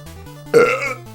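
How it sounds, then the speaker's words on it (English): A single loud, close human burp erupts over quiet background music from a retro NES game, lasting about half a second. "And now I'm burping."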